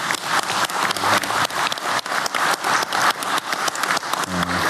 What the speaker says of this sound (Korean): 우리 대통령님과 국민을 위해 박수 한번 크게 보내주시기 바랍니다.